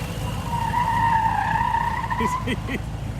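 Tires of the Blues Brothers Bluesmobile squeal in a long wavering screech as the car slides sideways at a car show, engine revving underneath, with shorter chirps near the end.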